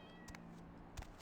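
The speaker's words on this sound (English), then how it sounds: "I heard a cat." A faint cat meows quietly in Vampire: The Masquerade – Bloodlines, a couple of short distant mews over low background ambience.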